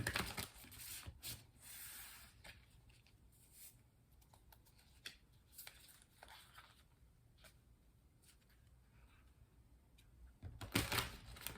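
Soft, close papery rustling and flicking of tarot cards being shuffled, in scattered bursts with a louder flurry near the end.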